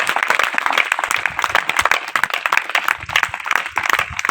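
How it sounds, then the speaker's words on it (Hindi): Loud, energetic applause from a crowd at a public gathering, dense rapid hand claps crackling continuously from start to finish. "जोरदार ताली सर।"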